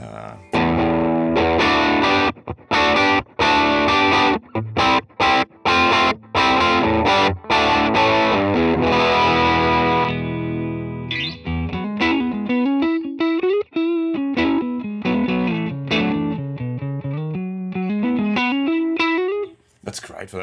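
A clean electric guitar plays through a Mesa Boogie amp capture on ToneX, with ringing chords for the first half, then a single-note melodic line with clear sustained notes, loud and up close.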